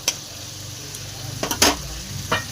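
Cauliflower being stirred and fried with spices in a pan, a soft steady sizzle with a few louder scraping stirs near the end, close and without talk.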